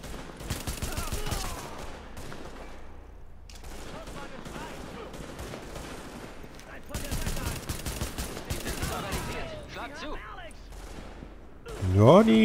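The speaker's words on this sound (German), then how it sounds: "Ja, die neue Pistole macht eigentlich ganz gut Schaden." Gunfire from a new pistol in The Division video game, several volleys of sharp shots in rapid bursts with pauses between them, mixed with other game noise and voices talking.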